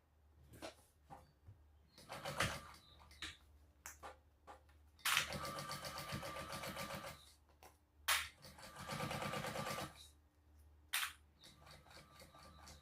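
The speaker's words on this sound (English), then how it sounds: "And you're sewing your flap on at this point in time." A sewing machine stitches a flap onto a quiver sling bag in several bursts of rapid whirring, with short pauses and small handling clicks in between, close and fairly quiet.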